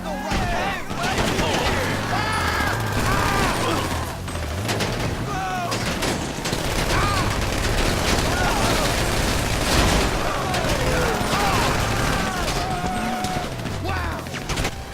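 A dense, continuous shootout in GTA 5 Online during a bank heist, with layered automatic gunfire and crashes mixed under wailing sirens and talking voices.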